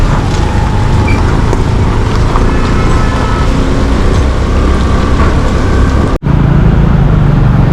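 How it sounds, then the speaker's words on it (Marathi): Steady, loud road traffic near Ambarnath outside Mumbai, a dense wash of car, truck and bus engines rumbling close by with a brief dropout near the end. "मित्रांनो परत ट्रॅफिक लागलं आपल्याला"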